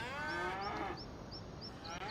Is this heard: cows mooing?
yes